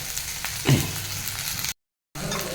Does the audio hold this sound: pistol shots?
no